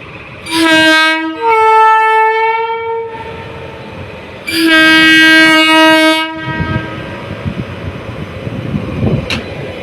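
A train sounds its horn in two long blasts at a level crossing left open, with rumbling wheels and rattling cars continuing close by between and after them.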